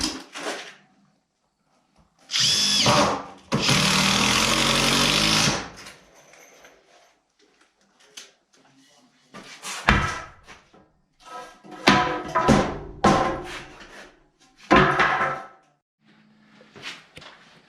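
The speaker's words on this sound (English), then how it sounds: "I'm gonna run 3-inch construction screws through the joist into the header," Construction screws, three inches long, driven through a floor joist into a wooden header, heard as two long, loud whirring bursts of a drill followed by a string of shorter driving bursts and knocks.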